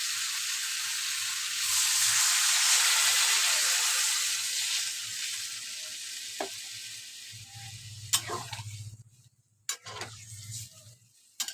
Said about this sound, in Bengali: অল্প মশলা, এবার আমি জল দিয়ে দেবো।